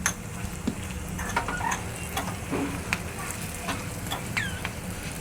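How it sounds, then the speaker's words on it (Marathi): Red chili powder and asafoetida frying in oil over low heat in a home kitchen for dal tadka, a soft steady sizzle with scattered light clinks and stirring taps throughout. "आता या गोष्टी आपण फ्राय होऊ देतोय."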